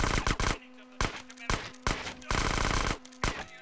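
Bursts of rapid gunfire at a shooting range in Grand Theft Auto San Andreas crack out repeatedly in short volleys, loud and close, with brief pauses between them.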